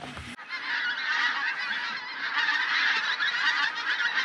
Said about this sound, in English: They are geese.